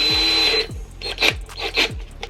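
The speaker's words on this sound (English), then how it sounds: "We've got a drill right here, and then we take this drill bit." A power drill bores through a plastic front splitter on a Vauxhall Corsa, giving four short, evenly spaced whirring bursts, each ending in a falling motor whine, close and fairly loud.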